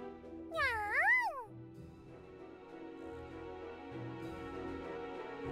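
A cartoonish cat meows once in the video game Super Neptunia RPG, a bright rising-and-falling call heard clearly over soft looping background music.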